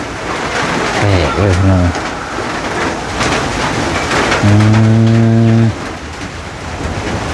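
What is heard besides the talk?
heavy rain falling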